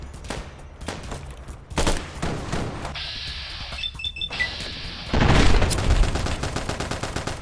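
Battle rifle firing in Fallout New Vegas: loud bursts of rapid gunshots, then a brief mechanical clatter and another heavy volley near the end, with no talking.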